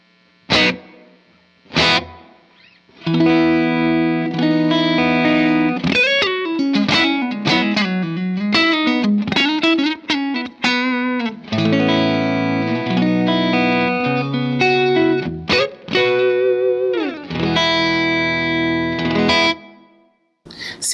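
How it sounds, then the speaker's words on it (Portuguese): Electric guitar played through a Strymon Iridium amp-modeler pedal set to a large, spacious room reverb: a run of picked notes and bends that ring out wide and distant, with lingering reverb tails between phrases. "Agora eu vou ter a regulagem mais espacial do pedal, aquela coisa ainda mais ampla e mais distante."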